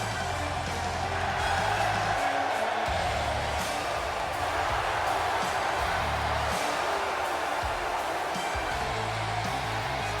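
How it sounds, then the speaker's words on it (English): Arena crowd in a WWE 2K17 wrestling game roaring in a sustained ovation for a favored wrestler at an event in Sunrise, Florida, a steady wash of cheering with no speech over it. "As you can hear the ovation."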